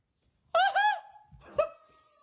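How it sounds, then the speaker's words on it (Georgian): A toy plays two short bursts of a shrill, wailing electronic peacock call, loud and close, separated by a brief pause. "თან ფარშევანგის ხმას გამოსცემს"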